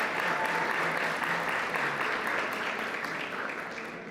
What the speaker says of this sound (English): Give your parents a round of applause for their great work and effort.